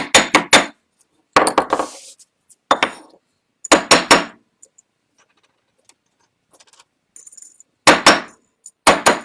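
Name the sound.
hammering metal pendant pieces flat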